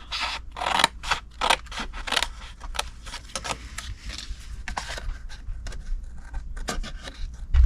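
Scissors cut through cardstock for a Valentine treat box in short, repeated snips and rustles, close and fairly quiet, with no talking.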